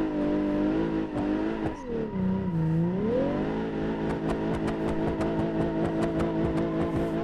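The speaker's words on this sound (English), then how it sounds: "Gotta do the big donuts in the big parking lot." Engine of a car in the BeamNG driving game revving loudly and steadily as it spins big donuts in a parking lot, with pitch sweeping up and down and tires squealing throughout, no talk.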